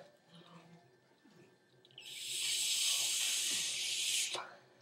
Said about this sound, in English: I cannot blow a hard-boiled egg out of its shell